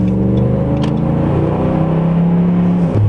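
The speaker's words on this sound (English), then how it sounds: "But you can hear the exhaust." A 2011 Ram 2500 pickup on Nitto Terra Grappler tires sends out a loud, steady, deep exhaust drone from nearby as it drives, with a slight swell near the end and no talk.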